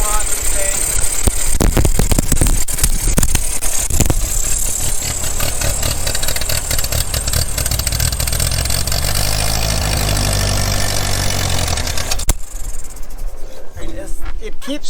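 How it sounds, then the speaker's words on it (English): A 1944 Ford tractor engine running loud and close with a rough, uneven idle and rasping mechanical clatter, which then drops off abruptly near the end. "It keeps shutting off when it's running for a little bit. And it does run rough."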